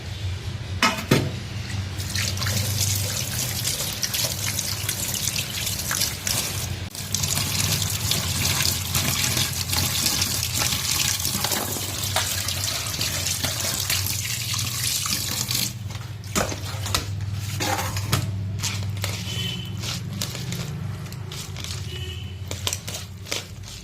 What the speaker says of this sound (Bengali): তারপর ঝুড়ির মধ্যে দিয়ে ভালো করে ধুয়ে নিতে হবে